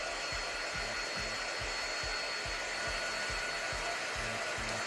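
A hair dryer drying paint on a custom mini stocking runs as a steady, continuous broadband whoosh with a low pulsing hum underneath, close and unbroken for the whole stretch with no talking.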